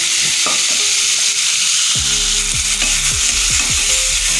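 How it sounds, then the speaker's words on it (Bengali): Spinach frying in a pan, with a loud, steady hiss of sizzling oil and a run of stirring scrapes that comes in partway through. "দু মিনিট নাড়াচাড়া করে নেব"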